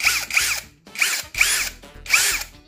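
An INGCO brushless cordless impact drill revs up in three short bursts of high-pitched whine at high speed, each one spinning up and winding down, close by with no talking.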